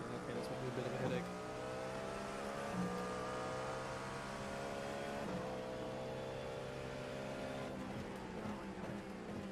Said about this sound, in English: this LMP2 should get past this GT up here